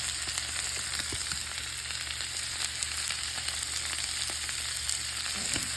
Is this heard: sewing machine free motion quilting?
no